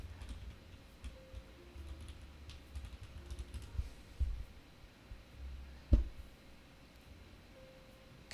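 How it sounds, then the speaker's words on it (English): Keys clatter faintly and irregularly on a computer keyboard in a quiet room, light clicks with one sharper tap standing out near the middle. "I'm typing it."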